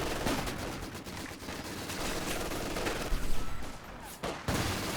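Video game battle gunfire from grenadiers and a sniper: dense, rapid bursts of shots and explosive impacts crackle continuously, loud and overlapping, with a brief lull near the end.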